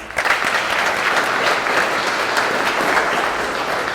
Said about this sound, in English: So another round of applause for EMS.